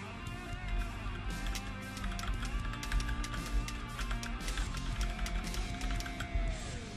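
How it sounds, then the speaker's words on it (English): Typewriter-style key feedback from a ROCCAT Suora gaming keyboard, with a steady stream of crisp tapping clicks as keys are pressed in quick succession, close up and without any talking. "Or you can have a typewriter sound,"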